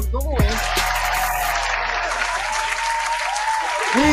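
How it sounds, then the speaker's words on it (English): Applause on a Houston Texans podcast, a sustained wash of clapping heard under a talking voice, with a brief thump near the start. "we gotta give an applause just for that"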